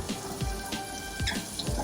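Turtle tank water splashes and pours out in a loose, irregular run of close sloshes and drips, fairly loud and without speech.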